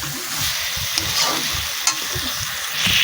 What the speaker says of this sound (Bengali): আমি ভালো করে খুন্তি দিয়ে নাড়াচাড়া করে